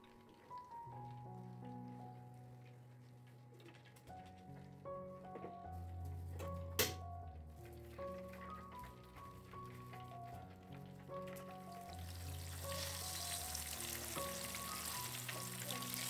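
Candlenuts, tomato and shrimp paste frying for Indonesian sambal Lamongan, a continuous crackling sizzle of hot oil that grows louder and denser toward the end, with music playing underneath.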